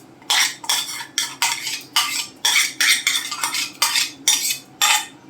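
A ladle scrapes and stirs rice kheer in a steel pot, about ten loud metallic sweeps in a steady rhythm, each a bright grating stroke separated by short pauses, with no talk.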